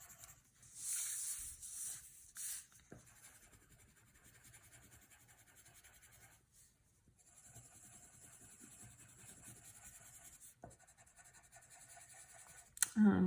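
Colored pencil scratches steadily across paper in a long, close, continuous rubbing with brief pauses and a few louder strokes.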